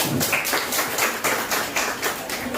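Applause from a classroom of students at a vocational high school, a steady wash of many hands clapping close by that carries on evenly for a couple of seconds.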